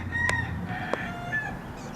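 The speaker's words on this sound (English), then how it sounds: "Actually, that sounds like a rooster." A rooster in a nearby chicken coop crows in short, faint calls over a quiet outdoor background.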